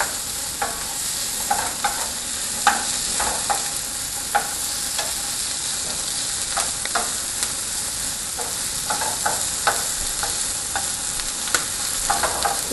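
Vegetables sweat in a pan while being stirred, a constant soft sizzle broken by frequent light scraping taps of the spoon, with no talking.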